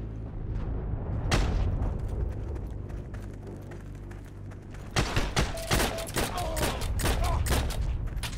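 Gunfire in the World War II shooter Heroes & Generals: a steady rumble of distant fighting, then a burst of rapid, loud nearby shots in the second half, with a short voice briefly over it.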